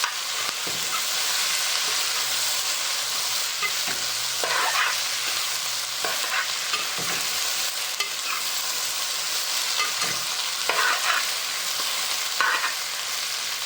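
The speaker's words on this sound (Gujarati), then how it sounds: "પછી નાખવાના ભીંડા કટ કરેલા બધા નાખી દેવાના બધું મિક્સ કરી લેવાનું" Cut okra frying in a hot pan and being mixed, giving a loud continuous sizzle with occasional scraping stirs close by, with no talking.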